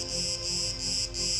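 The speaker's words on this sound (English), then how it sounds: "it is the summertime because you hear all the cicadas all around us" Loud, dense buzzing of many cicadas all around outdoors in summer at a winery, a shrill continuous drone that pulses in regular waves.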